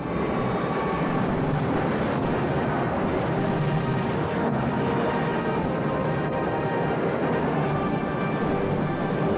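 A loud, continuous rumbling roar of a train in motion in a movie action scene, steady and heavy throughout without pauses or speech.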